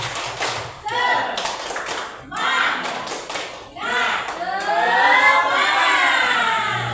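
An audience performs a rhythmic spirit clap in short patterned bursts, fairly close, followed by a rising cheer, with voices heard throughout.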